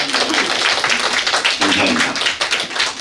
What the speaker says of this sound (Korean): 여러분 뜨거운 박수 한번 보내주시기